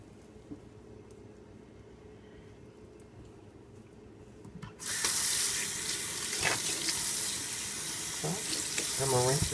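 Tap water runs into a sink while conditioner is rinsed out of a wig. There is quiet room tone for about five seconds, then the faucet gushes on loudly and keeps splashing, with a few handling bumps.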